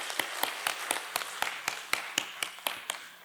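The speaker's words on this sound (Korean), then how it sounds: "다 함께 박수로 그들을 격려하기를 바랍니다" A church congregation at a Sunday worship service gives a rhythmic round of applause, about a dozen distinct, evenly spaced claps at moderate volume.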